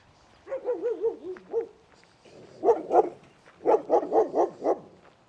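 A dog at an RV park barks in a loose string of short, yappy, somewhat muffled barks and yelps, arriving in two bursts with a brief pause between.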